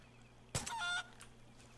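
A chicken in the Far Cry 5 video game lets out one short, sharp squawking cluck, fairly close, followed by quiet ambient background.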